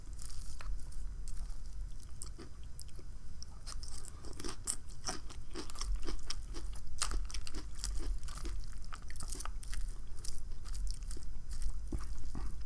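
Someone chews a crunchy poke bowl mixed with pickled ginger right at the mouth, with loud repeated crisp crunches and wet bites in an irregular rhythm that carries on steadily for over twelve seconds with no speech.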